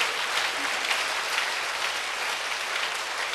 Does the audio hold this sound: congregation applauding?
yes